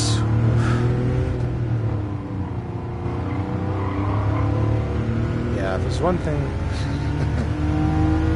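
A car engine in the Gran Turismo Sport video game drones steadily and then revs up with turbo lag, loud and close, while someone talks over it.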